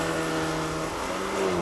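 A Volkswagen Golf R launching under launch control at full throttle, its engine a steady, loud, continuous roar with a rising tone, heard up close without talk.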